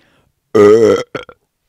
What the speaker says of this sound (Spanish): Después de tomar el café, emite un sonoro eructo